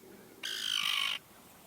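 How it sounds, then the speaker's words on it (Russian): A seagull gives a single loud, harsh call lasting under a second, close by at a lakeside holiday base near Yakutsk, with quiet surroundings before and after. "Чайка это вроде как чайка."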